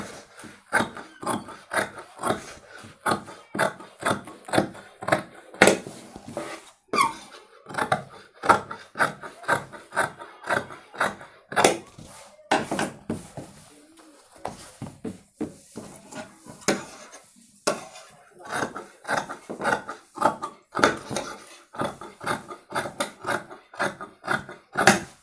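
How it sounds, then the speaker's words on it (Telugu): Fabric is cut with scissors along marked lines for a patiala pant, producing a steady run of crisp, close snips in irregular bursts, each separated by a short pause, with no talking. "మనం మార్కింగ్ చేసుకున్న పై నుంచి మనం కటింగ్ చేసుకోవాలండి"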